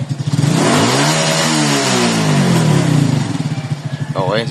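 A Raider J FI 115 motorcycle engine with a badly damaged connecting rod revs up and down loudly nearby, with rising and falling pitch sweeps; someone speaks briefly over it.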